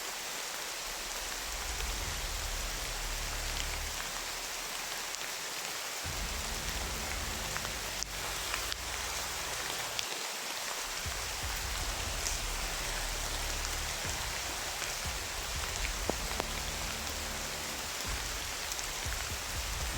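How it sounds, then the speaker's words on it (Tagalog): Heavy rain pours down steadily in a dense, unbroken hiss, with a low rumble underneath rising and falling. "Ang lakas ng ulan."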